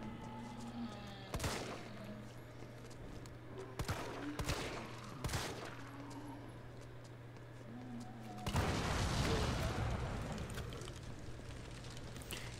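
Shotgun blasts in Resident Evil 3 Remake, several sharp single booms spaced a second or two apart, then a longer roaring burst of gunfire and rumble, all over a steady low game hum.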